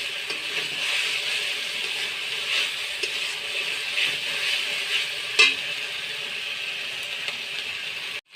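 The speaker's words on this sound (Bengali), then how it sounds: "মশলাটাকে ভালো করে কষে নিতে হবে।" Spice paste sautéing in a pan, a soft continuous sizzle and hiss with faint scraping from stirring, one sharper clink near the end, fairly quiet and close with no talking.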